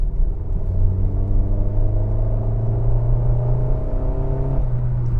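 A manual Suzuki Fronx GLX engine climbs toward 4,000 rpm, a steady rising drone heard from inside the car with clear engine harmonics, then the revs ease off near the end.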